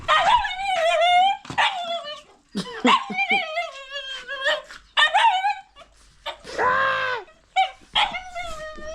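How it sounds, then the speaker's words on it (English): A pet dog at a countryside home yelps, whines and barks in repeated bursts close by, with high pitched whimpers between louder barks and brief pauses. "my dog is making noise"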